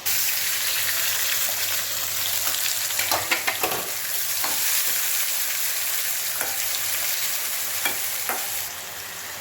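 Beetroot kootu with ground coconut sautéing and simmering in a pan, a steady close bubbling sizzle with occasional spoon scrapes and clicks scattered through, no one talking.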